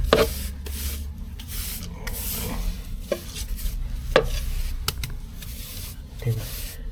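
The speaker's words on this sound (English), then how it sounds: "Just give it a bit of a brush and then back over again." Stiff brush sweeping a dry cement and sand mix into paving gaps, repeated scratchy rubbing strokes close by with a few sharper scrapes.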